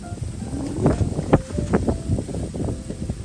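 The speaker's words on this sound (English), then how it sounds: "Got a lot of wind here." Wind buffets the microphone outdoors on a windy day in a steady, rumbling rush, with gusts swelling and fading and some faint knocks and rustling underneath, during outdoor grilling of ribeye steaks.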